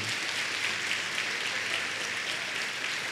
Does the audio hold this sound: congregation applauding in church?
yes